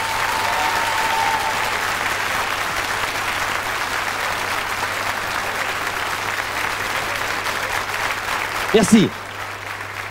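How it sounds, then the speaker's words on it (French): A studio audience applauds vintage Tracta and Bugatti cars on a Champs-Élysées variety show, a loud, sustained wash of clapping that runs throughout, ending with a brief spoken word near the end. "je voudrais quelques applaudissements car les voitures sont superbes"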